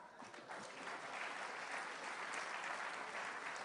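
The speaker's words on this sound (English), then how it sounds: "Clap." Audience clapping at a leadership talk by Dr. Myles Munroe: sustained, dense applause from a large crowd, steady and moderately distant throughout with no voice over it.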